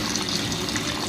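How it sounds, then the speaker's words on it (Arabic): Cold water pours from a kitchen tap over cauliflower, a steady close rush and splash with no pauses. "واقوم على طول واخداها وتحت الحنفيه علشان اديها ايه الصدمه بتاعتها"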